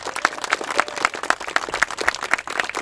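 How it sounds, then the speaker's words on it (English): A crowd claps for award winners at the 2022 Kuykendall Awards ceremony, producing a string of sharp, fairly regular claps that sound close and moderately loud, with no voices over them. "one more round of applause for our award winners"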